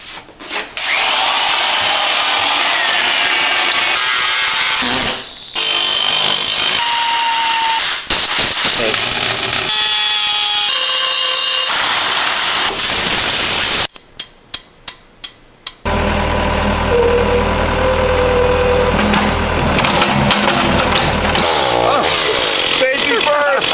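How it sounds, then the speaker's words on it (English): A Milwaukee half-inch right angle drill grinds loudly into wood in long bursts, pausing briefly between runs, with a short stuttering stop before drilling resumes. "There's nothing like the old favorite ½ inch Milwaukee right angle drill."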